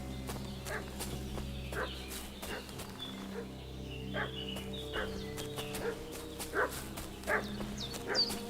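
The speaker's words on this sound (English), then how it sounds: "What's that dog making such a fuss about?" A dog in the game Kingdom Come: Deliverance II barks in short, fairly faint bursts under a low ambient hum and outdoor background noise.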